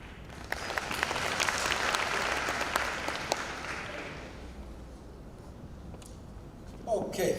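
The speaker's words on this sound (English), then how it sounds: "again a round of applause for the colleagues that had raised questions" Applause from a workshop audience fills the first several seconds as a dense, steady patter of many hands clapping, then thins and fades out, leaving quieter room tone.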